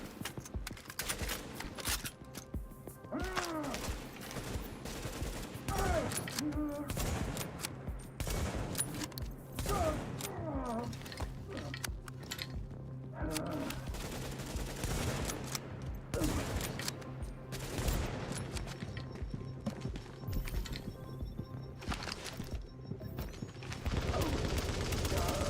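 Sustained automatic gunfire from the video game The Division 2 runs in dense, steady bursts for the whole stretch, fairly quiet and continuous, with a voice talking in places.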